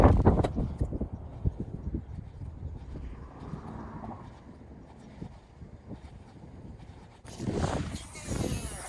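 Gusty wind buffets the microphone on open water during bass fishing, low rumbling blasts rising and falling, with a sharper, louder gust near the end.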